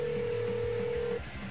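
A telephone rings inside the video game Lollipop Chainsaw, a steady electronic tone sounding continuously for just over a second before cutting off, with game background sound continuing beneath.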